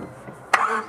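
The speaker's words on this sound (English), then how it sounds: "So the head gasket's done, so let's start it up." A 1996-2000 Honda Civic with a freshly replaced head gasket cranks briefly, then catches with a sudden burst as the engine fires up, close and fairly loud.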